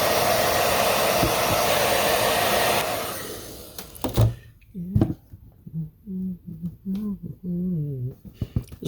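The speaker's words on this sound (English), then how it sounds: "we'll melt it in a little bit more with the hair dryer before wiping off the excess" A hair dryer blows loudly on waxed leather with a steady whooshing hiss for about three seconds, then fades out as a person starts talking.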